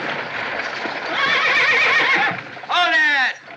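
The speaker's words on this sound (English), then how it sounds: "A horse-led stagecoach is rolling through the desert when a shot rings out." Horses pulling a stagecoach across the desert in the Western Stagecoach: steady clip-clop and rumble, then a sharp, loud whinny near the end, with voices faintly mixed underneath.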